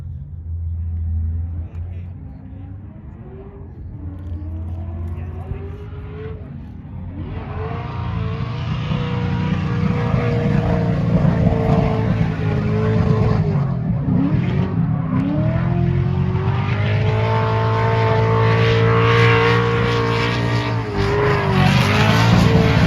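A race car engine roars at full throttle, its pitch rising and sliding through gear changes, loud and sustained with a low rumble beneath.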